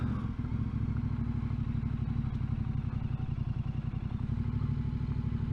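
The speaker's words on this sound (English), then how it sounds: "How's my bike riding skills for turning with two up?" A motorbike carries a rider and a passenger through a slow turn near old buildings, its engine a steady close, throbbing drone with rattly clatter throughout and no speech.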